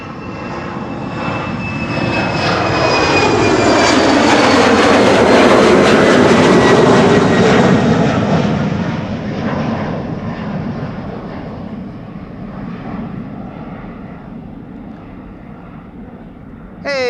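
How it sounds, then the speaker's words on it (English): A narrow-body jet airliner takes off from the Polderbaan runway at Amsterdam Schiphol, a loud sustained engine roar that swells to a peak and slowly fades with a high whine on top. "We have a whole slew of airplanes that is now queuing up to take off from this runway."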